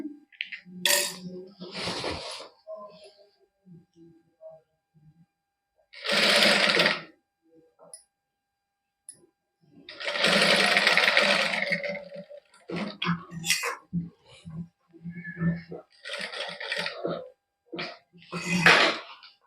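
A sewing machine stitches lace onto a plain suit in several loud, rattling bursts of varying length separated by short pauses, with a voice talking softly in between.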